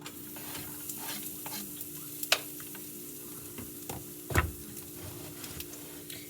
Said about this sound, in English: So I'm gonna go ahead and put these onions in.